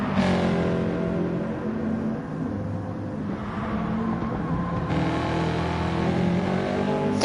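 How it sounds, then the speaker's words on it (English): A boxer-engined car in the racing video game Gran Turismo, its engine droning and revving steadily throughout at moderate loudness, with no voices over it. "great noise off that boxer engine there"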